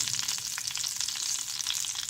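Steady, crackling sizzle of mackerel fish cutlets shallow frying in hot oil in a saucepan, with continuous bright spitting and popping and no voices.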